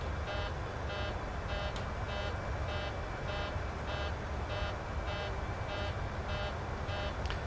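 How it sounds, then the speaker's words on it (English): Cockpit alarm in a PMDG 737 in Microsoft Flight Simulator, a steady repeating electronic beep pulsing about twice a second over a constant loud cockpit hum, with no talk. "So how do I stop the alarm?"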